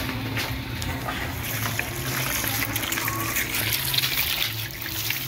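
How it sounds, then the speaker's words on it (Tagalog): Tap water runs into a container for fresh backyard-raised tilapia, a steady trickling and splashing flow that continues through the whole stretch at moderate level, with faint background noise. "Lagyan natin tubig."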